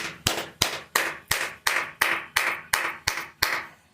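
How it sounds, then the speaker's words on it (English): Rhythmic group clapping from an audience, about ten crisp, evenly spaced claps at a steady beat, each ringing briefly in the room. "Clap it up for him"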